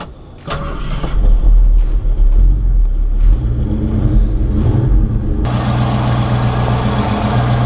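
A 1956 Ford F100 with a 390 FE V8 cranks briefly, then fires and settles into a loud, steady idle that grows rougher and fuller toward the end, close up with no talk.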